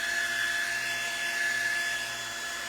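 A hair dryer runs steadily close by as it dries a freshly printed t-shirt, giving a continuous even whoosh with a faint high whine and no talking.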